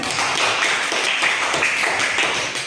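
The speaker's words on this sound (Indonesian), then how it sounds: "Tepuk tangan" Hands clap together in a classroom, a dense steady patter of many small palms that holds evenly for a few seconds, fairly close and alone without talk.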